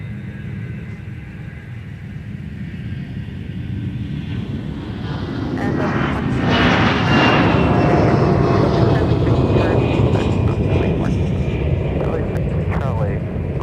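Delta Airbus A320 departing runway 30 left at MSP airport, a distant jet roar that swells into a loud, broad rumble as it takes off, with radio voices and talk over it.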